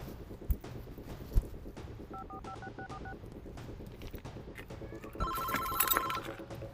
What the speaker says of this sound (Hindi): अरे साइना का फोन